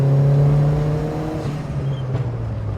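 A Vauxhall Frontera 4x4 engine revs and accelerates with a steady droning hum from inside the vehicle, gradually easing off.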